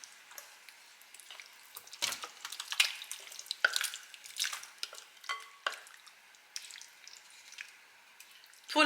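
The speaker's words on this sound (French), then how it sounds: "Et je viens verser mon gratin." A gratin pours into a hand-oiled baking dish with soft, wet squishing and dripping sounds in irregular bursts, quiet and close.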